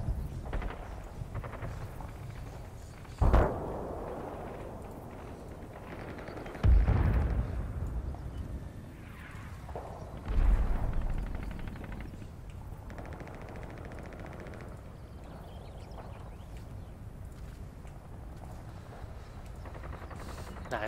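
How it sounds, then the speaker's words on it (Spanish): Mortar rounds explode in the wargame Combat Mission: Battle for Normandy: three heavy booms land a few seconds apart, each one fading into a low, rumbling background. "Ese mortero debe ser el tiro de ajuste."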